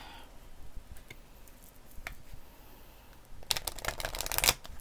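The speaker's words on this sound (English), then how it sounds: "Let me just shuffle a few times." A Moonology oracle card deck is shuffled, faint riffling and soft card ticks at first, then a quick, louder burst of rapid shuffling near the end, with no talking.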